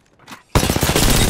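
Sudden loud burst of gunfire in a video game shootout, which breaks in after a brief quieter moment and keeps up as a dense, close, crackling barrage, with no voices over it.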